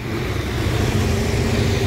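A Sipirok Nauli bus engine warming up, roaring steadily and loud at close range with a deep, continuous rumble that holds level throughout, with no talk.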